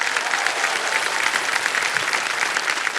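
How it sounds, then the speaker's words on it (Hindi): Studio audience at a Hindi TV quiz show, Kaun Banega Crorepati season 16, bursts into loud, sustained applause, dense steady clapping throughout with no voices over it. "जोरदार तालियां बज जाएं इनके लिए।"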